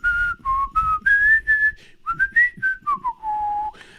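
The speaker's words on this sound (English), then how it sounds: "I was very tempted to start whistling" A person whistles a short wandering tune of sustained and sliding notes in separate phrases, close and clear, with no talking.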